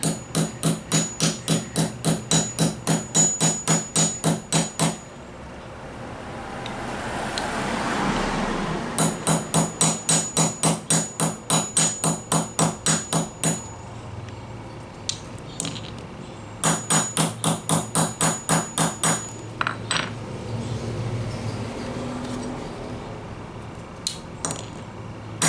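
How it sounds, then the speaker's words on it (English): Sharp metallic hammer blows in rapid, steady bursts as a button is hammered flush on a Nissan Z, several runs of quick strikes separated by short pauses and a softer hissing stretch. "hammer it till it's flush"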